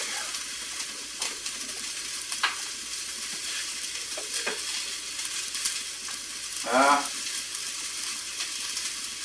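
Garlic frying in a hot pan for chicken sofrito, a steady broadband sizzle with a few scraping stirs and one brief clatter partway through, heard alone without talk.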